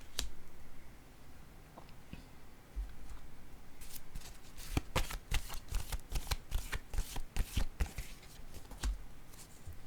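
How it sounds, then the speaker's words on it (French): Tarot cards are shuffled and laid down in a quiet room: a few soft isolated taps, then a dense run of crisp card riffles and slaps, close and fairly loud. "Je vais déposer une autre carte ici."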